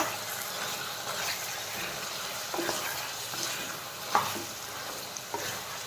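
Local chicken curry meat is stirred while frying in oil, a soft continuous sizzle under repeated scraping and clicking strokes of a spoon against the pot, with a sharper knock near the end.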